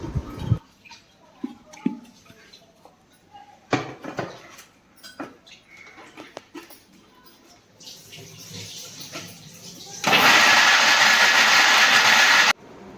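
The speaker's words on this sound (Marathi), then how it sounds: "आलं आणि जिरं घालणार आहोत आणि सर्व काही आपण वाटून घेणार आहोत" An electric kitchen grinder whirs loudly in one steady burst near the end, grinding ginger, cumin, garlic and chilli into a coarse paste for aloo wadi, after a stretch of quiet handling clatter.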